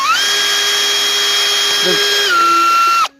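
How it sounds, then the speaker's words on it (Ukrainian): A drill or cordless driver with a roughly 1 mm bit bores a hole in a plastic bucket. It gives a steady, loud high-pitched whine for about three seconds, then the pitch drops slightly near the end before it cuts off. "дрель чи шурупокрут. Свердло в нас 1 мм десь приблизно."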